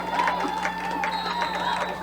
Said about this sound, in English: Quite a few of the seniors getting a nice applause from the crowd here in the stands.